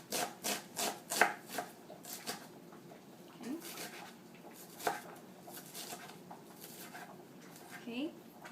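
A knife chops vegetables on a cutting board for Cuban black beans, giving quick rhythmic cuts at first, then sparser, softer strokes, all fairly quiet and close.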